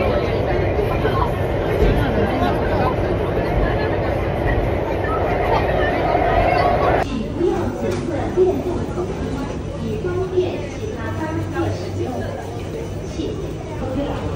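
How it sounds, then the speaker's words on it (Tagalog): A Singapore MRT train carries riders during rush hour, its steady rumble and rail noise continuous throughout, with people chatting over it and a sudden shift in the background hum midway. "Bilis ng train."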